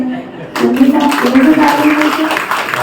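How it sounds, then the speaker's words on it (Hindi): Audience clapping at a Brahma Kumaris Navratri Durga Ashtami devotional worship gathering bursts in after a brief pause and continues as dense, steady applause, with voices and chatter carrying over it. "वाह, ताली बजाओ।"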